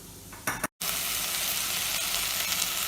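Rice pulao sautéing in a pan gives a steady, dense frying sizzle throughout, with a brief scrape of stirring just before a momentary dropout.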